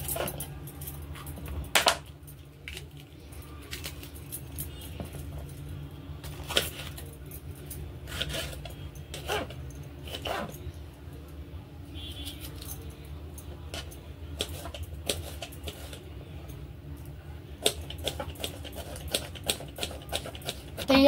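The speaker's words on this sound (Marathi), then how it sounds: "आता आपण शिमला कापून घेऊया।" A knife chops capsicum on a cutting board for veg momos, giving a close run of quick, irregular taps and knocks with short pauses between bursts.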